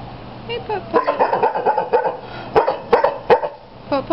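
A dog at an animal shelter barks in repeated short bursts and cries with whimpering yips, fairly close, while a person talks over much of it.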